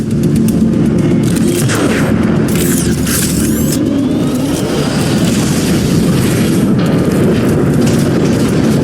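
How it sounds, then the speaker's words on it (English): Heavy Decepticon warp cannon blasts from Transformers: Fall of Cybertron rumble continuously with booming low impacts and sweeping high-pitched energy whines, loud and dense throughout. "The Decepticon warp cannon!"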